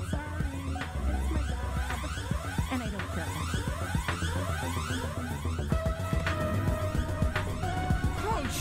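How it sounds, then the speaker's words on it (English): An alarm blares in the video game High on Life, a repeating rising electronic siren sweep cycling continuously and loudly amid game sounds. "Yep, I'm gonna set off the alarm."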